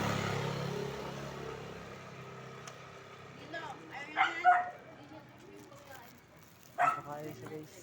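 A couple of short dog barks ring out a few seconds apart over steady background noise and some talk.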